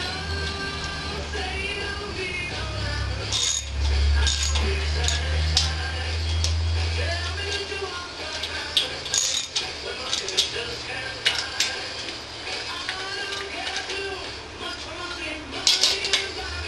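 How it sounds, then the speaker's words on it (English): Metallic clicks and light ratcheting from nuts being run down onto head studs of a VW engine during a rebuild, irregular ticks and taps close by, with a low hum underneath. "Now just run the nuts down and snug them."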